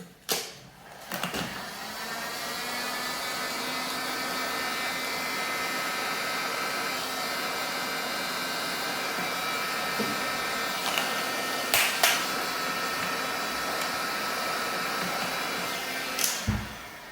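A heat gun blows steadily for about seventeen seconds while drying a cleaned scooter stem on a Dualtron, a constant airy roar with a few brief clicks and knocks.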